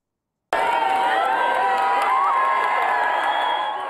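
A large early-morning crowd cheers steadily at the London Olympic torch relay, a loud, sustained wash of shouts and whoops beginning abruptly and holding for several seconds.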